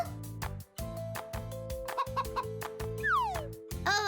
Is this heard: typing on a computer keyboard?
no